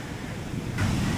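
Sea waves surge in toward seaside houses as a broad, rushing wash of surf that swells louder toward the end, with wind buffeting the microphone.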